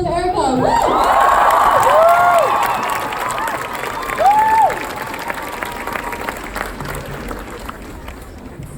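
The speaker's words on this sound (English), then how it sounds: "So big round of applause for Erica" An audience at a climate action event cheers and applauds for a performer about to sing, with whoops and crowd noise loud at first and then gradually fading into a softer murmur.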